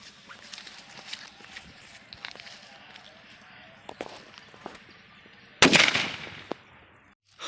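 A Valangaiman barrel firecracker goes off with one sudden, loud outdoor blast that rings out and fades over a few seconds, preceded by scattered footsteps and light handling noises.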